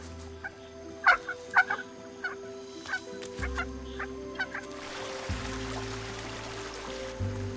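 Bird chicks call for food in a run of sharp, repeated chirps and peeps close by, clustered early then scattered, over a low steady hum of outdoor background.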